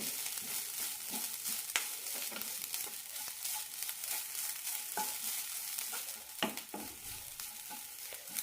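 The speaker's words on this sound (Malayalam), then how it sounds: "മീഡിയം ഫ്ലെയിമിലിട്ട് വറുത്തെടുത്താൽ മതി അല്ലെങ്കിൽ തേങ്ങ പെട്ടെന്ന് കരിഞ്ഞു പോകും തുടരെ ഇളക്കി കൊടുക്കും വേണം" Grated coconut roasts in a pan over medium flame, giving a soft, continuous sizzle and crackle, with intermittent scraping and dull taps from stirring. The sound stays faint and close throughout.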